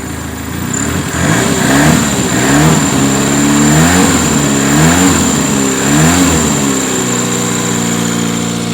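An old car engine, first fired up since 1999, runs loudly and close, rising and falling through several revs over a steady idle.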